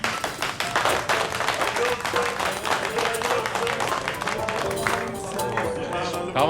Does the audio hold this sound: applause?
yes